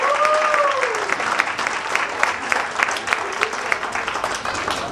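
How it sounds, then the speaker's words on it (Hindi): Loud, steady applause from an audience at an annual school fest performance, dense continuous clapping throughout with a brief whistle-like tone near the start. "एक बार जोर से तालियां हो जाए उनके लिए भाई."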